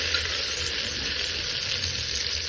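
Vegetables frying in a pan with dried red chillies tempered in oil while making khichdi, a steady, close, continuous sizzle with no pauses and no voices.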